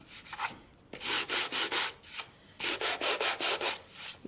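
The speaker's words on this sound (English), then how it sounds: "we're going to sand it just a little bit" Sanding a painted wooden centerpiece box by hand to give it a weathered look, heard as two bursts of rhythmic back-and-forth rubbing strokes, about five each, close and fairly loud with brief pauses between.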